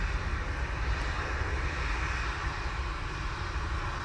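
A Virgin Atlantic Airbus A350-1000 arriving from Orlando onto a contaminated runway at Manchester Airport, a steady distant engine rumble with faint reverse thrust, fairly quiet and continuous over the whole stretch.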